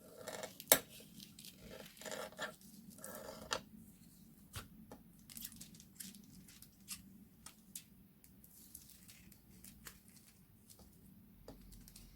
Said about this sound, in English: while I cut my foil